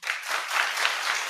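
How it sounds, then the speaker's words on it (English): Small studio audience clapping, a thin, steady patter of hands that holds evenly for a moment without cheers or voices. "Barely anybody claps."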